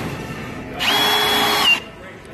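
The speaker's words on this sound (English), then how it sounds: "I could probably drill this all the way down to the chuck." A Milwaukee M18 Fuel Gen3 hammer drill whirs in one short, loud, high-pitched burst of about a second, close by, between quieter stretches.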